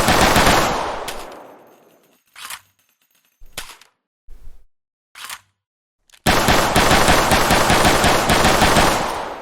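A Makarov pistol firing in the video game BF:RI, opening with a loud rapid burst that rings out, then several short isolated sharp reports or clicks separated by silence, and another sustained rapid volley to the end.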